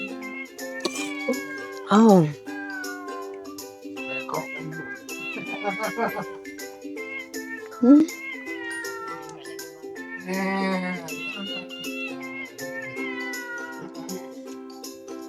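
A cat in a cage at a cat garden meows repeatedly, with several drawn-out, loud, close calls spread across the stretch, while people chat quietly nearby.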